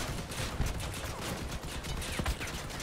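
Vehicle gunfire in the combat game Crossout, a dense stream of rapid, fairly quiet shots rattling continuously across a few seconds, with occasional sharper cracks standing out in the mix.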